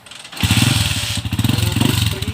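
Freshly rebored motorcycle engine running smoothly after carburetor work and tightening, a steady close pulsing idle that briefly revs up, with no rattling knock.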